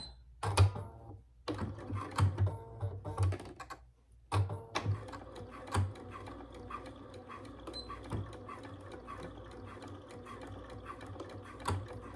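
A sewing machine stitching a fabric wallet, close and fairly quiet, in short bursts of rapid mechanical clatter separated by pauses, then a longer run of steady stitching.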